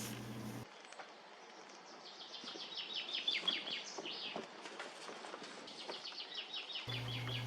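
Small birds and nestling chicks in a French garden give repeated high, thin chirps in quick overlapping series, fairly close and steady over faint background ambience.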